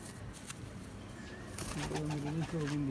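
A golden pigeon coos near the end, a few low, wavering throaty notes rising out of quiet background noise, with brief muffled sounds before it.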